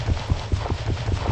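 Hooves of a Minecraft horse clip-clop in a quick, even rhythm of soft thuds, close and steady over a low background hum, with no talking.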